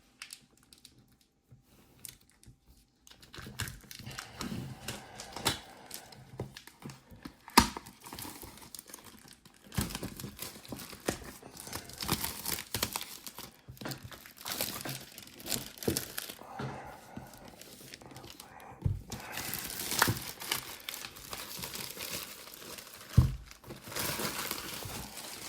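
Cardboard and plastic crinkling, tearing and rustling as a Descent Act II board game box is unpacked, a long stretch of close, fairly quiet handling noises with irregular sharper snaps.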